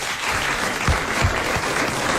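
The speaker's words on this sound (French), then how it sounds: "Alors, on applaudit cette bonne question qui vous a collé." Studio audience on a French radio quiz show clapping, a short dense burst of applause from a small crowd, close and even throughout.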